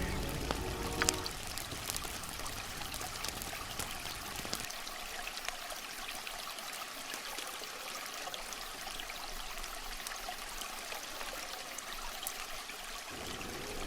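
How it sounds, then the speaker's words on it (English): A babbling brook in the video game Baldur's Gate gives a steady, continuous rush of flowing water, moderately quiet and even throughout, with no voices. "we decided to take a rest and heal up by the grass near a babbling brook"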